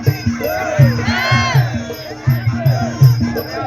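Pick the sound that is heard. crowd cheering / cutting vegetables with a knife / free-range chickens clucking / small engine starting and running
crowd cheering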